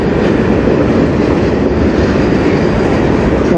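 A CN manifest freight train led by locomotives CN 3077 and CN 2914 rolls past at close range in Sarnia, Ontario, a loud, steady rumble of wagons and wheels with no voices.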